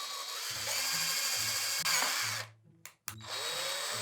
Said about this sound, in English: Next up, the 3mm drill.